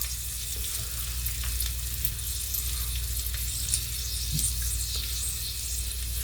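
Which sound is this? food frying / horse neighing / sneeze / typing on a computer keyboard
food frying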